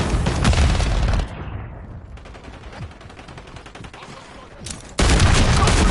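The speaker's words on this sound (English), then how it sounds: "Stun grenade!" A stun grenade bursts in a video game firefight, a loud blast with dense gunfire at the start, a quieter ringing stretch in the middle, then heavy shooting slamming back in at the end.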